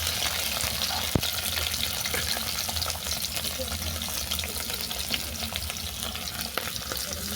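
Prawns fry in mustard oil in a wok with a steady, close crackling sizzle, punctuated by occasional stirring scrapes and a sharp utensil tap.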